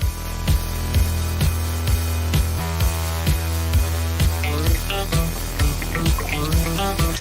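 A funk track sampled in an EDM production plays loudly: a steady groove of punchy kick and snare under bright guitar and synth lines, a continuous full mix with no voices.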